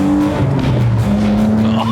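Classic BMW E28 fitted with a swapped E46 engine, revving hard and loud up close with a sustained droning note that steps in pitch.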